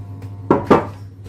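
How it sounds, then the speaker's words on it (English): Sultanas are stirred into an apple mixture in a bowl for apple crumble: two quick, close knocking scrapes of a utensil against the bowl, a faint tap after them, over a low steady hum. "so I can mix in the sultanas"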